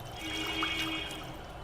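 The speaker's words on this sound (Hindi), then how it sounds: "इसी हैंड से पानी को हम गिरा रहे हैं।" Water poured out by hand during a hand and finger therapy exercise, a soft, steady trickling pour close by with no voices.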